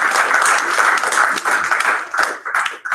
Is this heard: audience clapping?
yes